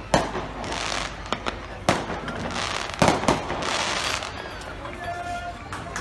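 Fireworks set off over a harbour on arrival, with sharp bangs and crackling bursts rolling out at mid distance and a voice talking through them.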